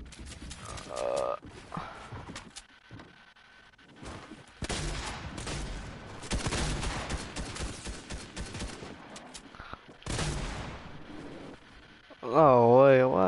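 Bursts of AR rifle fire from the Ranger in a shooting video game, several rapid volleys separated by pauses, loud and close, with a player talking in between.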